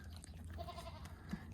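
A newborn goat kid, just delivered after a difficult birth, gives a short, near bleat or two over low farmyard rumble.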